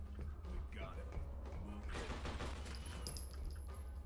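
Video game gunfire comes in a burst of several sharp shots bunched in the middle, among thuds and clatter, with a voice talking over parts of it.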